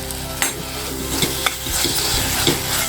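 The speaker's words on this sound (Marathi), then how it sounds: "पडवळचा आतला गर आहे बियांसकट ह्यामध्ये घालायचा आणि परतून घ्यायचा" Snake gourd pulp and seeds being sautéed in an oily masala paste, with a constant sizzle under repeated scrapes and clacks of a spatula against the pan, close and fairly loud.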